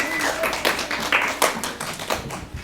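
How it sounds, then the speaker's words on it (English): A small group claps for the winning red team at a number-puzzle game show, a brief scattered round of hand claps and taps that never builds into a full ovation. "Let's give them a round of applause."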